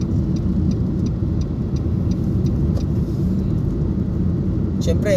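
A Nissan Almera 1.2 manual car is on a test drive, heard from inside. The engine gives a steady, close hum with road rumble underneath, and a short extra noise comes near the end.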